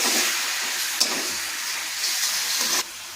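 Washed chicken pieces added to a hot pot, giving a loud, steady sizzling hiss with a few brief surges before it cuts down quieter at the end, close by and without talking.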